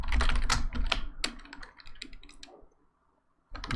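Rapid, close clatter of typing on a computer keyboard with sharp individual keystrokes, slowing into scattered taps before a brief pause and a fresh burst.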